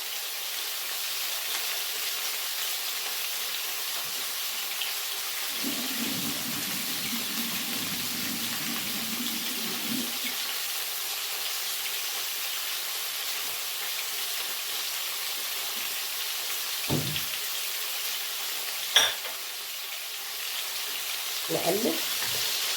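Sausage frying in a pan with little added oil as its own fat renders out, giving a steady broadband sizzle throughout, with a brief low murmur in the middle and a few sharp clinks near the end.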